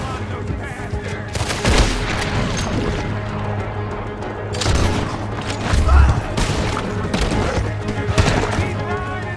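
Gunfire from a Red Dead Redemption 2 shootout on horseback, loud repeated shots and crashes cluttering a dense, busy game soundscape, with bursts clustering near the start, middle and end and a voice shouting briefly.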